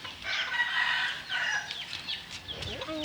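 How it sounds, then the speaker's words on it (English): Chickens on a farm cluck and a rooster crows, the calls fairly close and overlapping across the short stretch of noisy outdoor sound. "Ooh, look at those chickens."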